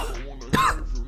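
Two dry coughs, the first a longer burst with a quick follow-up and the second short and sharp just after, heard close and alone.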